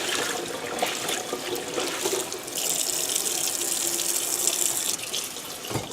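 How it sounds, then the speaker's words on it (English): Tie-dyed fabric is rinsed and squeezed under a running tap, a steady gush of water splashing into a sink with wet sloshing as the cloth is wrung, continuous and close. "give it some more rinsing and squeezing here"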